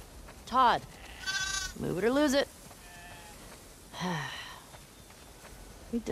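Several sheep bleat in the video game The Last of Us Part II in short wavering cries, a few close together and then a lone one, over a quiet background.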